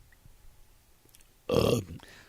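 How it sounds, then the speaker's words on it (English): One loud, throaty burp erupts up close, short and rasping, in an otherwise quiet room with a faint trailing murmur afterward. "You're just burping."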